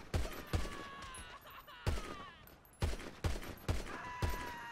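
Gunfire in GTA 5 while shooting zombies: a series of sharp, loud individual shots at uneven intervals, each with a brief ringing tail, and a faint voice between them.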